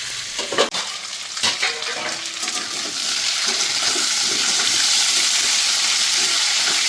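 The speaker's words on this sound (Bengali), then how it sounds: "আমি কাঁচকলা আলুটা একটু হালকা ভেজে নেবো" Raw green banana and potato pieces frying lightly in a pan, a steady hissing sizzle with occasional stirring clatters near the start, growing denser and louder midway and holding close throughout, with no talking.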